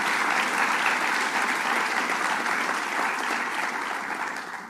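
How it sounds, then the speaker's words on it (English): Sustained audience applause at a heroin and opioid legislative package bill signing, a steady dense wash of clapping that holds evenly for several seconds before beginning to taper near the end. "So let's give them a round of applause"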